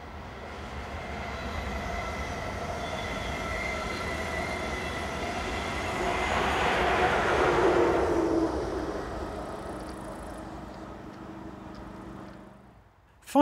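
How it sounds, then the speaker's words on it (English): An ICE high-speed train, unit 402007, running from München to Bremen, approaches with a rising rush and roar that peaks mid-pass, then fades, with a faint wheel squeal. "ICE service from München to Bremen approaches the Camera, formed by Unit 402007."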